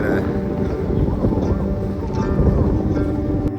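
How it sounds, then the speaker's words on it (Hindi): Strong wind buffeting the Ram Jhula suspension bridge in Rishikesh, a loud, steady rush and rumble filling the whole stretch, with muffled footsteps and faint crowd noise mixed in. "बहुत तेज हवा चल रही है"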